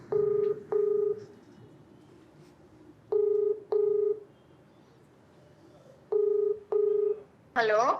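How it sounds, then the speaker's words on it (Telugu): A phone keypad sounds clear, separate dialing tones, each a short beep, in pairs spaced a few seconds apart across the call, with one final warbling burst at the end. "నేను కాల్ చేస్తాను."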